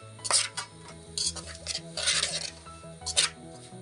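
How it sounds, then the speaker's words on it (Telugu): Cut raw mango pieces being mixed for pickle make close, irregular scraping and stirring rubs in short bursts against a container, with a faint steady background tone and no talk. "మనం కట్ చేసుకున్న మామిడికాయ ముక్కలు ఇలా కలుపుకోవాలి ఫ్రెండ్స్ మంచిగా"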